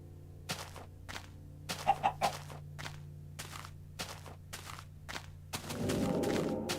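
Chicken in a video game world clucking in quick bursts amid repeated footstep-like thumps, ending with a louder rustling noise.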